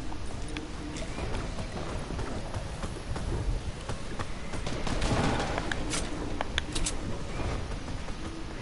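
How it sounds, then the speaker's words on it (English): Gunfire crackles in a Fortnite match as players shoot at walls: a dense, continuous patter of rapid shots and sharp cracks, moderately loud, swelling in the middle and carrying on throughout. "Why are these kids shooting at their walls to get out?"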